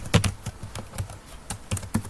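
Keys clack on a computer keyboard while a C program is typed, a quick irregular run of crisp close taps with brief gaps, alone with no talking.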